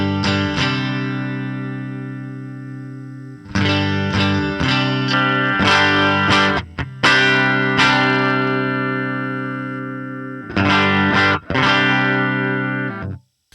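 An electric guitar runs through a dual amp preset on a Line 6 HX Stomp, heavily distorted, with loud sustained chords struck in separate bursts and brief pauses between, played alone with no voices.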